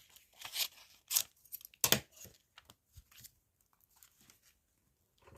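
Paper being cut with scissors, a few sharp snipping bursts close up followed by quieter scattered snips and rustles, no talking.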